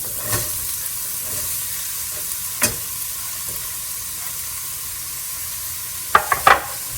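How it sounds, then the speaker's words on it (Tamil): Onions sizzle and fry in a hot pan with whole garam masala for a chicken gravy, a steady close hiss broken by a few sharp utensil clicks and scrapes near the end. "அப்பெல்லாம் நான் வெங்காயத்தெல்லாம் ஆட் பண்றேன்."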